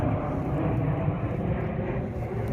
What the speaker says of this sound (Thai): ได้ยินเสียงเครื่องบินแล้วพี่น้องเนาะ